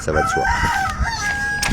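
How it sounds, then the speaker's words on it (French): A rooster crows outdoors in the countryside on a windy day, loud and close, one sustained call under someone speaking French. "il y a le coq qui chante"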